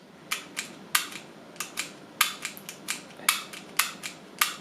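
A series of sharp mechanical clicks, about a dozen, spaced irregularly and fairly close, from a Taurus PT111 Millennium G2 pistol trigger dry-firing with a hang-up; no voices.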